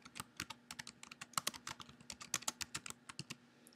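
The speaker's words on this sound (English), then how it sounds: "simply type the search terms into the box" Computer keyboard typed in quick, uneven bursts of clicks, as a search term is entered into a museum's online collections search box, close and clear with no voices over a faint steady hum.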